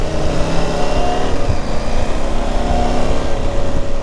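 A motorcycle engine on a road trip toward the Vosges runs in a steady, loud, close drone throughout, with little sign of distinct throttle blips.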